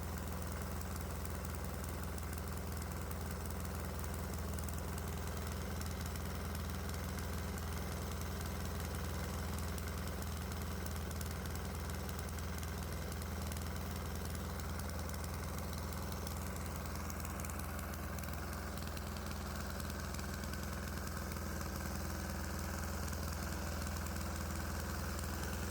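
Diesel engine idling on 90% waste oil, a steady low rumbling drone with constant vibration that runs unbroken and even from start to finish, with no voices.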